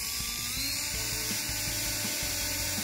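A drill boring through a plastic mailbox piece, a continuous high whine with rhythmic low grinding pulses as the bit works through, steady and close.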